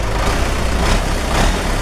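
A 1990 Belarus 82.1 tractor engine revs hard, a loud, steady heavy diesel roar filling the whole moment with no break.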